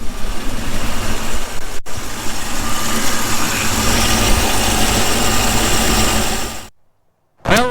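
A 1977 Chevy C60 truck engine runs steadily at idle after repair, a loud continuous rumble with a brief cutout near the start and a sudden silence near the end before it resumes.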